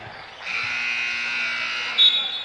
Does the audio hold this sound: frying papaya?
no